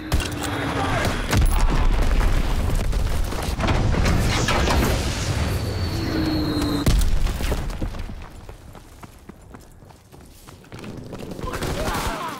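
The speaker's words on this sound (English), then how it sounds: "Enemy bomb incoming!" Bomb explosions in Call of Duty WW2 combat: repeated heavy booms and sharp blasts amid dense gunfire, loud and chaotic for most of the stretch, easing briefly before picking up again.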